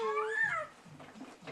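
A cat gives a single rising-and-falling meow up close, followed by quiet background murmuring.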